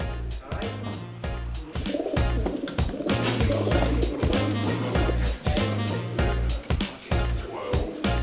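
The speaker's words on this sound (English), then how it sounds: "the pigeons were brought to the Pigeon Racing Clubhouse" Racing pigeons at a clubhouse coo in low, throaty repeated calls that overlap continuously, close and fairly loud, with scattered clicks and shuffling mixed in.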